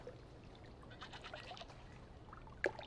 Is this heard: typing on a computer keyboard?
no